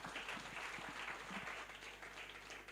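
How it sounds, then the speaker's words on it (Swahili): A church audience applauds its ministers, with dense, steady clapping heard throughout at moderate distance and no speech over it. "Simuwapigie makofi."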